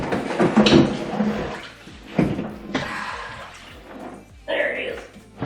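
A car part from a turbo LS fuel injection swap is lowered into cold water, giving splashes and sloshing in bursts, with voices nearby.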